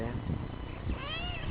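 A cat with an orange tail meows once near the end, a short rising call over continuous background noise. People talk around it.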